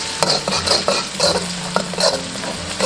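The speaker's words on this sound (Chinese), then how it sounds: "下入蒜末、红椒粒炒香，加入1勺半的烧椒酱" Minced garlic and diced red pepper stir-fried in hot oil with a spoonful of roasted chili sauce, a steady sizzle under repeated rhythmic scrapes and clinks of a spatula against the pan, close and alone.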